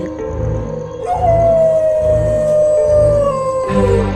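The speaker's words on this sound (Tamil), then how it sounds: "தூரத்தில் நாய் ஒன்று ஊளையிட்டு கொண்டிருக்க" A dog howls in the distance, one long, sustained, slowly falling wail carried over a steady, pulsing low rhythm.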